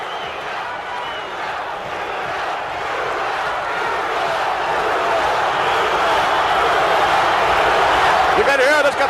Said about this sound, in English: You can hear this capacity crowd chanting, Bruno, Bruno, Bruno.